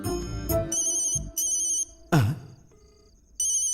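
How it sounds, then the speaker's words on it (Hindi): A telephone ringtone chimes in repeated bright bursts, broken by a sharp thump and a brief gap before the ringing resumes, loud and close. "फोन की घंटी यहां क्यों बज रही है?"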